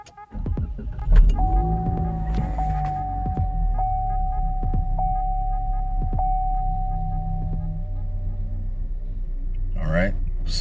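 Cadillac ATS 2.0T engine idling after a misfire repair, a steady low hum and throb with a faint whine on top, continuous and close, with a voice speaking over it.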